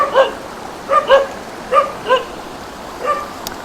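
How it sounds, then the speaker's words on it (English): A dog barks in short bursts, about six barks spaced irregularly, somewhat distant outdoors with a quiet hiss in the background. "that's my dog over there barking"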